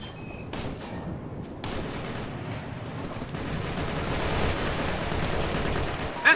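Sustained suppressing gunfire from a team's rifles in the military shooter Operation Flashpoint: Red River, a dense continuous fusillade of overlapping shots and distant battlefield rumble that slowly swells louder.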